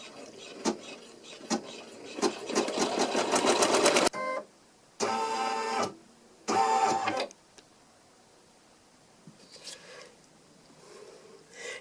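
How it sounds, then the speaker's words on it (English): Embroidery machine sewing placement stitches for an in-the-hoop vinyl napkin ring, a fast rapid stitching whir for about four seconds followed by two shorter separate bursts, close and clear with no talk. "So I'm going to place this on the machine, lower my foot, and stitch out my placement stitches."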